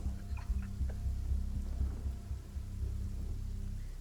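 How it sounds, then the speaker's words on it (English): Soft, steady rainfall in Genshin Impact with a low rolling rumble of thunder underneath, faint and continuous throughout. "Now it's raining here as well."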